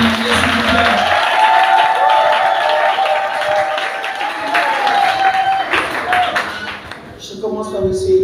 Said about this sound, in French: On applaudit une fois de plus pour les mariés, s'il vous plaît.